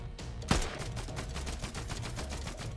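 Gunfire in a shooter video game, a sharp close shot followed by a rapid, evenly spaced train of quieter shots, heard faintly over background game noise.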